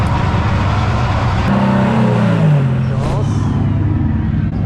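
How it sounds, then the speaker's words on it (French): A race car's engine revs in automatic warm-up mode before an auto race, a loud, sustained droning roar with rising and falling pitch close by, with voices faintly mixed in. "la voiture elle se met en route et elle fait les revs juste comme il faut pour chauffer le moteur"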